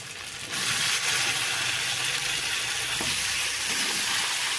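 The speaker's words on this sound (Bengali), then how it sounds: "ভালো করে কষিয়ে কষিয়ে একদম কচুটাকে ভালো করে ভেজে নেব" Boiled taro pieces fry in an oily spice masala, giving a steady, fairly loud broadband sizzle that rises after a brief quieter opening and holds evenly, with a faint stir or scrape near the end.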